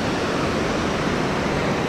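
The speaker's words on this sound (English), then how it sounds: "there's a lot of current going on here" Strong current of the Great Miami River rushes in a steady broadband roar, close and constant with no breaks and no voices.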